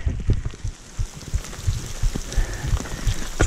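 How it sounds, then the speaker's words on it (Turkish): Steady heavy rain pounding a muddy, earthy surface nearby, with dense irregular drops and thuds throughout, no voices. "Çok feci yağmur yağıyor."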